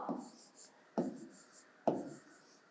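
Pen strokes writing numbers on paper for a grade 3 addition lesson: three short scratchy bursts, each a quick stroke that fades, evenly spaced and close.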